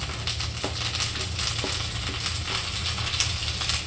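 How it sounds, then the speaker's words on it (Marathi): Curry leaves crackle and sizzle in hot oil in a pan with browned onions, a steady dense frying hiss with a few sharper pops, close and fairly loud throughout. "आता ज्याला ऐकायला येत नाही त्याला पण ऐकायला येणार आहे आपल्या कढीपत्त्याचा आवाज"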